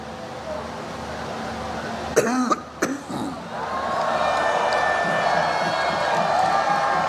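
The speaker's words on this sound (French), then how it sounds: "Pardonnez à la toux" A couple of sharp coughs from the speaker during a politician's political speech in Dabou break through a steady crowd murmur, which swells louder right after them.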